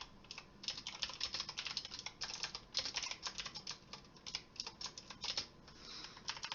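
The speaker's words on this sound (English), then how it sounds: "excuse my typing." Fingers type on a computer keyboard in quick, uneven bursts of light clicks, faint and close by, while Python input code is being entered.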